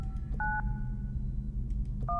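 Telephone keypad tones in the horror video game Luto, two short separate key presses with a pause between them over a low rumbling ambient background, no speech.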